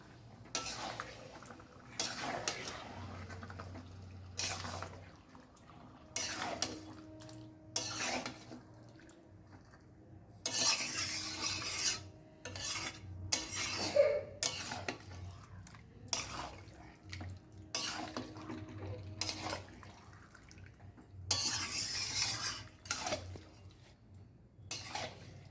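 Chicken and potato curry is stirred in a pot and then covered. Scattered clinks and scrapes of utensils on the pot alternate with short bursts of running tap water and quieter pauses.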